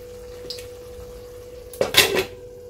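A wok set down on a gas stove and about a spoonful of oil added: a low steady hum, then one short metallic clatter and a brief splash.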